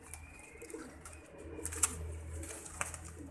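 Soft, low pigeon cooing repeats in a steady murmur, with a few faint bird sounds and rustles nearby.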